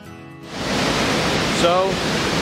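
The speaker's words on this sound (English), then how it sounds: "we made it to the waterfall. There it is, all of its beauty." Steady broadband rushing of Butte Creek Falls fills the scene, a constant roar of falling water that swells after a brief quieter start, with a faint tonal squeak.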